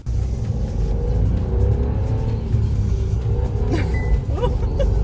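A new car's engine revs while the clutch slips, producing a loud, close, continuous rumble with rising and falling revs.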